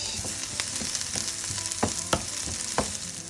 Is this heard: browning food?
yes